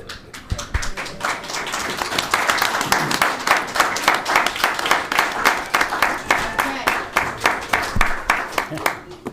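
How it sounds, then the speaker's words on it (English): At a county board of commissioners meeting, an audience applauds the Assistant Fire Chief named Employee of the Month. The clapping is steady, sustained and fairly loud in a room, with some voices mixed in. "Why don't you stay for a moment and clap for our Assistant Fire Chief, who is our Employee of the Month"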